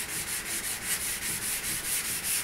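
Wet sanding of Valtra tractor body panels over dried paint: close, rhythmic back-and-forth rubbing strokes, roughly four per second, with a gritty, watery hiss and no talking.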